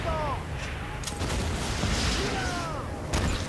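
Gunfire and explosions in the video game Battlefield 1943 on the Guadalcanal map, repeated sharp shots and booming blasts over a dense, loud battle din, with a voice talking over it.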